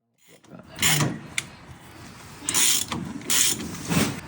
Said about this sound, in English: we could undo the 4 bolts holding the backplate in place